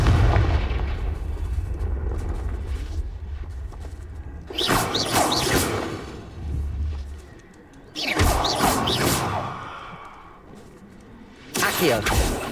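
The Confringo fire spell in Hogwarts Legacy, played on Nintendo Switch, sets off several booming explosive blasts with crackling debris, spaced out over several seconds amid game ambience and a low rumble.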